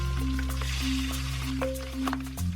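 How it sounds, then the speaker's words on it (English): Pork belly slices sizzle in hot oil in a pan over medium heat, a soft steady crackle with faint pops and a low hum beneath, close and continuous for a few seconds. "Heat some oil in a pan over medium heat. Once hot, carefully place the pork slices into the oil."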